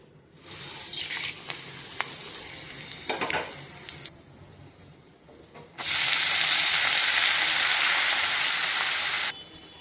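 Small clicks and scrapes give way to a loud, sustained burst of sizzling as seeds hit hot oil, hissing strongly for several seconds before stopping.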